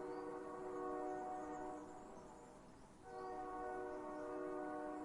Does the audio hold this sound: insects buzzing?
no